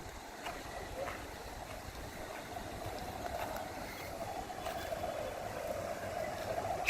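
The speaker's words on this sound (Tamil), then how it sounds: "வைகை ஆறு ஆர்ப்பரிச்சு ஓடிட்டு இருக்குங்க" Below the shutters of Vaigai Dam near Madurai, the Vaigai river rushes out in a continuous broadband roar that sounds somewhat distant, with faint wind buffeting the microphone and no clear voices.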